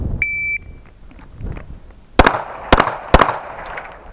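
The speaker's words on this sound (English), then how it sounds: "3 rounds in 5 seconds from the holster." Three pistol shots fired from the holster on a training range, sharp loud cracks spaced about half a second apart, preceded by a short electronic timer beep.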